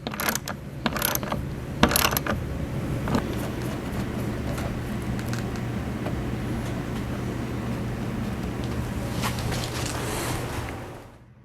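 Ratchet tightening AirLift Loadlifter 5000 airbag fittings on a Ram pickup, a few sharp clicking bursts early on, then a steady mechanical whirring drone through the rest, close by.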